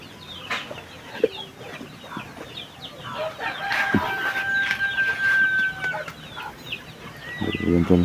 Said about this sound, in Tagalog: Nakatingin si Jared sa mga manok.